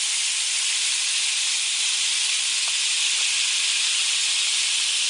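A stick of butter melting with fresh-squeezed lemon juice in a hot pan for blackened catfish gives off a loud, steady hiss that holds unchanged throughout, with no voices.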